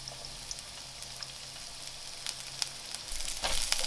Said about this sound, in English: Get these cooking, because these take the longest to cook